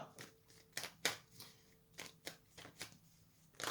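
Tarot cards are shuffled by hand for a reading, giving quiet, irregular riffling and slapping bursts, close and soft, repeating about a dozen times.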